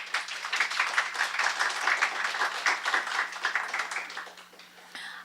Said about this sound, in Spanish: Eduardo Carabes Andrade, para quien les pido un aplauso.